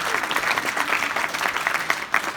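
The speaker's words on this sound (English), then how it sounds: "Round of applause." Audience applause fills a live storytelling event in Manchester, a steady broadband wash of many hands clapping throughout, loud and continuous without a break.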